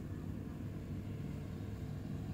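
A drone flies overhead near the Kedung Kandang bridge in Patuk, Gunungkidul, making a steady, even, buzzing drone mixed with heavy outdoor rumble and wind, with no breaks and no voices.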